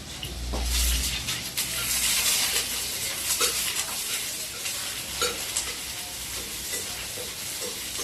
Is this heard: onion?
yes